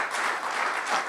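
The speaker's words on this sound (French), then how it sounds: "allez, on les applaudit encore" A roundtable audience gives brief, fairly soft applause, a short burst of many hands clapping heard from a little distance.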